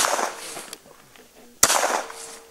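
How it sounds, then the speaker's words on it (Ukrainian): Two sharp gunshots during a military firing practice, one at the start and a louder one near the middle, each with a rolling outdoor echo, separated by quieter background noise. "Будемо зараз проводити стрільби."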